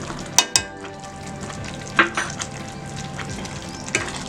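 Palak paneer sizzles steadily in a pan as coriander powder is stirred in, with a few sharp spoon scrapes and clinks against the metal over the frying hiss.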